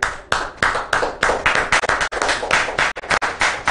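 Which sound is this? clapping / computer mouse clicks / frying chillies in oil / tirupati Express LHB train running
clapping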